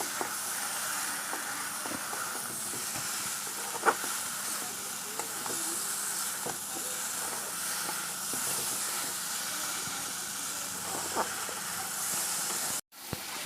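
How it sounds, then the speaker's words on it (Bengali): Potatoes and pointed gourd frying in spice paste make a soft, continuous hiss and sizzle, with a few faint clicks of stirring and a brief drop near the end. "এখন আমি মশলার উপরে আলু আর পটলটাকে যে ভেজে রেখেছিলাম যে দেখুন আলু পটলটাকে এখন আমি দিয়ে দেবো"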